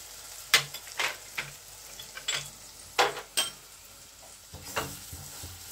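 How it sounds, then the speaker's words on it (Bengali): Kadhai paneer masala, spiced with sugar, chilli powder and Kashmiri chilli, fries in a pan. A soft sizzle sits under a series of close metal scrapes and clinks from the stirring spoon, busier at first and easing off toward the end, with no voices. "এবার আমি এটাকে ফ্রাই করতে থাকবো।"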